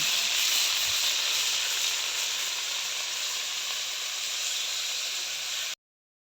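Boal fish fries in a hot pan with a loud, continuous sizzle and hiss that holds steady close up, then cuts off suddenly.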